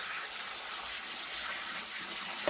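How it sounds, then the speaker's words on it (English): Cold water runs from a kitchen tap over cooked noodles for haluski, making a steady hissing gush that continues unbroken at moderate level. "I'm going to cool these noodles down with cold water"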